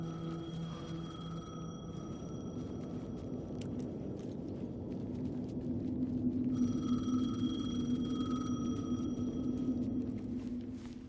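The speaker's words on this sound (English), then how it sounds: "The payphone was ringing." A payphone rings repeatedly in the video game Alan Wake II, a steady electronic ring with a brief gap before it resumes, over a low ambient rumble.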